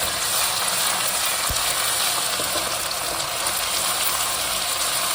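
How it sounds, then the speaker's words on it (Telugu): Onion and ginger frying in a pan for a green masala chicken curry, a loud, continuous close-up sizzle with a faint stir or two and no voices. "ఇప్పుడు మనం 1 స్పూను అల్లం వేసుకుందాం."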